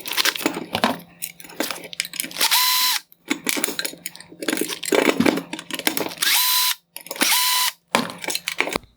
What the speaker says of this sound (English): I'm going to remove the 4 Phillips head screws holding the projector to the bracket